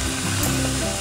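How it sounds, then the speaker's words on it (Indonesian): Sausages frying in a little oil in a pan make a dense, loud, continuous sizzle that stays even throughout, with no talking. "Kasih minyak sedikit. Kita masukin sosisnya."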